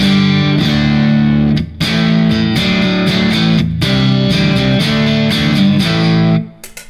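An electric guitar on its neck pickup through a SIM1 XT-1 tone-imprinting and amp-modeling unit, loud sustained distorted chords and riffs with brief gaps, fading at the end, no talking.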